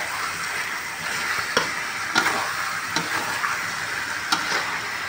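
Shrimp with heads removed and shells left on, stirred with spices in a hot frying pan, sizzling and hissing steadily with a few sharp scraping clinks of the utensil against the pan, close and alone without talk.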